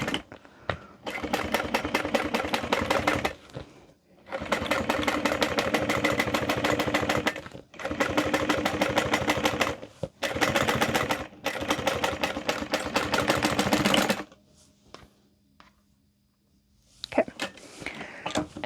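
A sewing machine top stitches through the exterior panel of a handbag in several bursts of rapid, even needle chatter separated by short pauses, close and clear, trailing into quiet handling sounds at the end.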